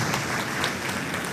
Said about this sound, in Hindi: पुनः तालियों की अपेक्षा आप सभी से